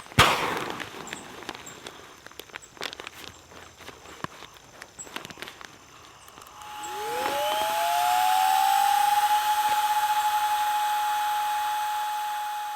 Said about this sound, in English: You can use this device, suck all the air out of the pad